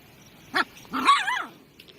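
A dog barks at close range: one short sharp yap followed by a longer, wavering, whiny bark, then quiet.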